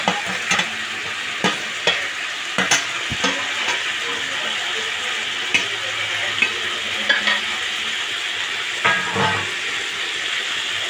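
Fried cauliflower and carrot pieces go into a pan of Bengali bhoger khichuri. A steady close sizzle and hiss plays under clinks and scrapes of stirring, with no one talking.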